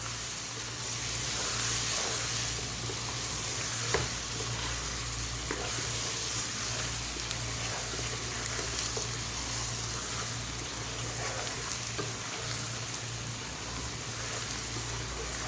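Whole spices and ground masalas sizzling loudly in a hot pan for chicken biryani, a dense continuous frying hiss with light stirring scrapes, close and steady throughout, with no voices.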